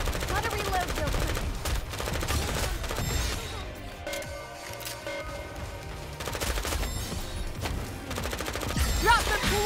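Rapid bursts of automatic gunfire from the anime shooter Goddess of Victory: Nikke rattle almost continuously, with a brief lull in the middle before the firing picks up again, loud and dense with game effects layered over it.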